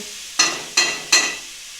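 Food sizzling in a pan, with three sharp stirring bursts of hiss at a steady pace, each fading back to a low crackle.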